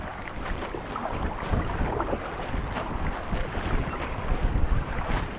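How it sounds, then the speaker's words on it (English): Strong wind buffets a microphone on a kayak out on choppy water, gusting and rumbling close up in uneven surges, with water sloshing beneath and no voices. "this is like next level wind"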